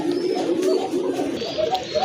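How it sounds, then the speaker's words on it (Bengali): A pair of pet-market pigeons coo softly and repeatedly close by, a low gentle burbling with no talking. "খুবই কিউট এক জোড়া কবুতর"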